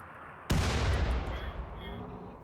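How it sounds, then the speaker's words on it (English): A single heavy mortar impact booms from a Rimworld colony's bombardment, a sharp blast with a long rumbling tail that fades slowly over the next two seconds. "our mortar bombardment is making slow but steady progress"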